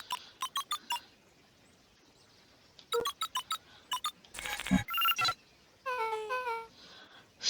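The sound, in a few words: keypad tones entering a password in Beacon Pines video game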